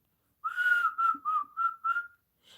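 A person whistles a short melodic phrase of several sustained notes in a row, clear and close, with no talking, then begins another note at the end.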